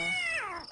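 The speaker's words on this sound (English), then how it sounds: "The cat." A cat meows once in The Visitor video game, a short, loud, clear meow that slides downward in pitch and fades at the end.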